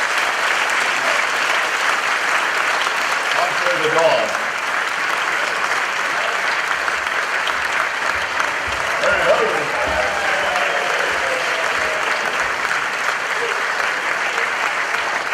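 Sustained audience applause at a cholera charity benefit gala, a dense, even roar of clapping from a large crowd, with voices speaking over it partway through.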